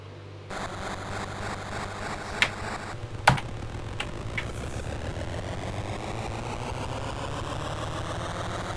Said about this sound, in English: Does sound like a motor getting up to speed. Almost like an aircraft motor.